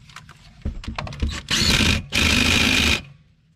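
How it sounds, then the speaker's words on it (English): An impact wrench drives a 17 mm belt tensioner bolt on a Hyundai/Kia 3.3L engine: a few short clicks and taps, then two loud, close, sustained hammering bursts of about half a second and a second each. "I usually start them by hand, and the rest of the way I use my impact."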